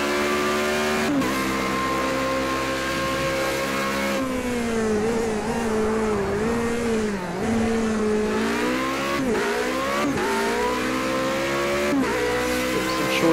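Formula Renault open-wheel race car in Project CARS 2, its engine droning and revving continuously with steady harmonic pitch that dips and climbs through gear shifts, loud and close throughout with no talk.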